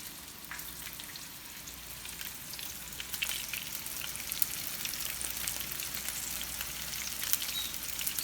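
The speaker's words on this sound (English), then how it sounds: "I'm gonna fry the eggplant that I just dressed in the flour" Flour-dredged eggplant fries in a pan with a continuous, fairly quiet sizzle and spatter. Fine crackling pops are scattered through it, and no voices are heard.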